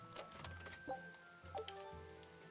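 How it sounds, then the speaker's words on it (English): Heavy downpour in the video game Tales of Berseria, a faint steady hiss of rain pattering on surfaces with a few soft low thumps underneath, no voices. "because of this heavy downpour of rain, she would be soaked through"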